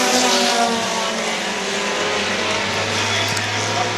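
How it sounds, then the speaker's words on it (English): New England Pro-4 Modified race cars roar past during a heat race at Star Speedway, a loud, close engine drone with a rising and falling pitch as the cars pass. "Single file throughout the field in heat race number 1 for the New England Pro-4 Modifieds"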